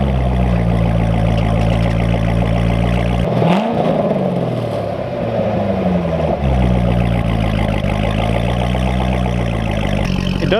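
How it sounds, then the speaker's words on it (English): 2008 Chevrolet Corvette 3LT with NPP exhaust, its V8 rumbling close and loud, dipping briefly around the middle before rising again into a deep steady idle with slight revs, no talk. "It does have NPP exhaust."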